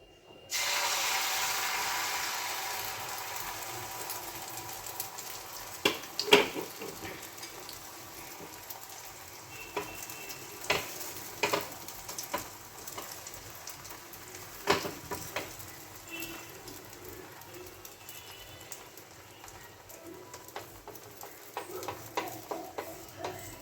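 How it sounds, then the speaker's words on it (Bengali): Beaten egg frying as an omelette in hot oil, a continuous hissing sizzle that is loudest at first, with scattered ticks and scrapes of a utensil against the pan, close by. "তেলটা আমার গরম হয়ে গেছে। এটা আমি যে ডিমটা ফেটিয়েছি সেটা আমি দুভাগে ভেজে নেব।"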